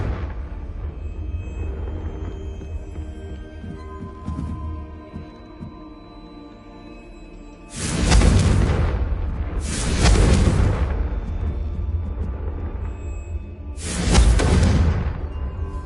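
Three heavy blasts from the Confringo spell in the video game Hogwarts Legacy, the first two about two seconds apart and the third after a short pause, each a loud, booming burst over a low rumbling game background.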